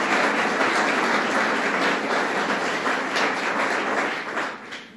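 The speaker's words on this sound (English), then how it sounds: "Let's give him a round of applause, Senator Joe Griffo." An audience at a local officials' event with the governor breaks into loud sustained applause, dense clapping that holds steady before tapering off at the end.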